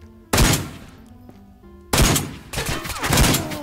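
Heavy gunfire from a Barrett .50 rifle in a first-person shooter video game, with a loud booming shot, a brief lull, then two more powerful reports close together, each ringing out.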